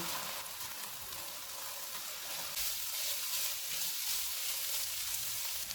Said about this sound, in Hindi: इनको 2 मिनट तक भूनेंगे।